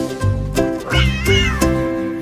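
A cat meows several times in a row over a bright children's nursery-rhyme tune, the drawn-out mews clear and close above the music.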